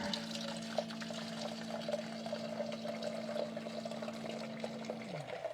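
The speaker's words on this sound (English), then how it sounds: "what we're doing now is filling each mason jar" Boiling water poured from a kettle into mason jars of clementine herbal tea, a soft steady trickle with a rising tone as the jar fills, faint and close, no talking.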